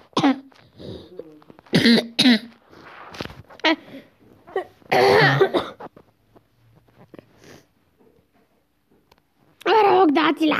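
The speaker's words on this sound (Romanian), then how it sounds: "dați like pentru tușul meu de cai" Harsh, hoarse coughing likened to a horse's cough comes in several loud bursts spread across the stretch, mixed in with talking between the fits.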